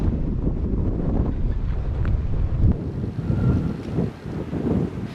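Wind blowing at Kos Town castle in Greece, heavy gusty buffeting on the microphone, loud and rumbling with uneven surges and brief lulls.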